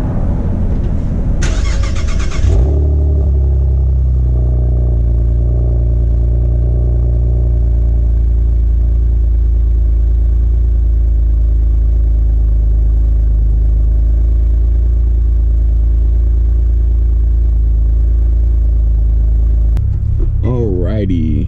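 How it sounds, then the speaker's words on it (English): Modded fifth-generation Camaro with a newly installed cold air intake: the engine starts with a brief loud roar, then settles into a deep, steady, close idle rumble that runs throughout. "This is the first drive after installing the cold air on the car."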